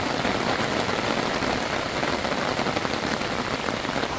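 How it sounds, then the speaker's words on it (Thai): Steady rain falls on a forest campground in Saraburi, Thailand, a dense, continuous patter on tents and surfaces with no pauses, fairly close and even in loudness throughout. "มานอนแคมป์ค่ะฝนตก"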